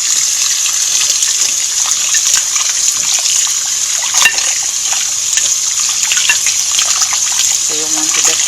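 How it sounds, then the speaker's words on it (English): Running tap water gushing steadily over goat meat being washed in a kitchen, a loud continuous hiss with some splashing and a voice speaking over it. "I'm going to wash the meat."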